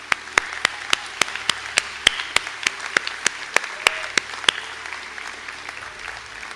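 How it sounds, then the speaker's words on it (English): Sparse, evenly spaced claps from a small audience at a graduation conferring ceremony, about twenty distinct sharp hand claps in a steady rhythm over a faint room hum, fading out toward the end. "if we could have a round of applause for those graduates"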